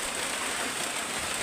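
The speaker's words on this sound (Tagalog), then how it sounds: "grabe lakas ng ulan" Heavy rain pours down steadily in a continuous, dense hiss with no break, loud and close, with no voices over it.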